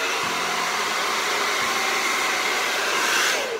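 An electric fan runs with a steady, broadband whoosh throughout, loud and close, with no talk over it; the airflow tails off slightly at the very end as it is switched off.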